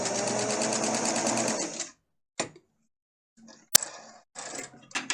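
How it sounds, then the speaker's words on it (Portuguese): A sewing machine stitches a straight seam in fabric, a fast steady mechanical rattle that stops, followed by short bursts of running, a sharp click and handling noises. "aqui eu aprendo aprendo a guiar o tecido para fazer uma costura retinha"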